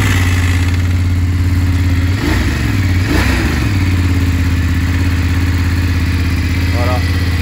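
A 2021 BMW F850GS motorcycle engine running steadily just after its first start outside a garage, a loud, constant close-up drone with a couple of brief swells in the middle.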